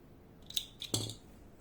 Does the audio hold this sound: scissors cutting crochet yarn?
yes